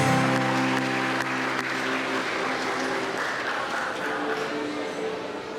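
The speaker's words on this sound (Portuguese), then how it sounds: "aplauda o nome do Senhor Jesus" A church congregation applauds during a celebration service, a sustained moderate wash of clapping over a steady tonal voice or music bed, fading slightly toward the end.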